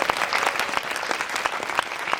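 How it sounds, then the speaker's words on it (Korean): Steady applause from a cinema audience at a film talk event, dense clapping that fills the whole stretch evenly without pause or voices on top. "박수 한번 부탁드립니다"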